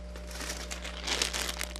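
A plastic bag being crinkled and scrunched in the hands, a close, continuous crackling rustle over a steady low electrical hum.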